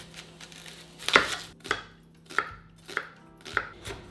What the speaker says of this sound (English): I need to chop up my very large onion, mince my garlic, and also finally mince up this ginger here